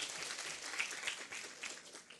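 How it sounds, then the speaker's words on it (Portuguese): An audience at a youth literary contest talk applauds, a steady wash of many hands clapping together, moderately loud and sustained throughout without a break. "Uma salva de palmas aqui, viu?"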